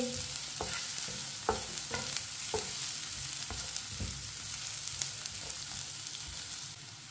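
Onions fry in a pan until lightly browned for a bitter gourd (karela) sabzi, with a steady close sizzle and occasional scraping stirs and light knocks of a spoon, without any talking.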